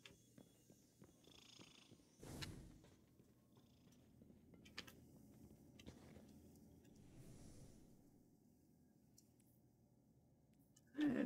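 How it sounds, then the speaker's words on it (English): Cat purring in the Destiny 2 video game, a soft low rhythmic purr heard faintly with a few louder clicks and rustles, ending in a brief louder burst. "Yeah, I spotted that cat."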